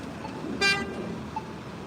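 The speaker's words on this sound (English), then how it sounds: "I don't know why people are honking." A single short car horn toot cuts through steady road traffic rumble on a Boston street beside an MBTA Green Line train, then the street noise carries on.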